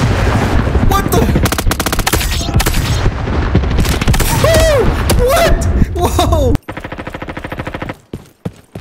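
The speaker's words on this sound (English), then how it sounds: "I hear gunshots to the left." Heavy automatic gunfire and booming shots in the Roblox shooter Frontlines, loud rapid bursts layered over each other, then a sparser string of distant shots near the end.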